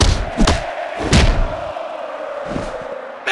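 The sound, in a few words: crowd cheering in WWE Mayhem video game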